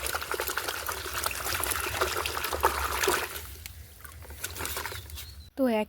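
Water trickling and pouring as coco peat is rinsed off the roots of a desi gerbera plant, a steady close splashing patter that thins out toward the end before a brief louder sound.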